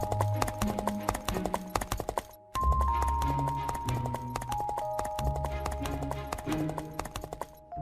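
Horse hooves clip-clop in a steady, brisk rhythm on a village road at night, loud and close, with a short break before the trotting resumes; a faint tonal music bed runs underneath.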